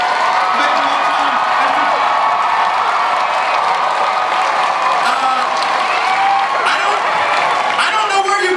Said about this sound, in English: A huge round of applause for the entire cast of Age of Ultron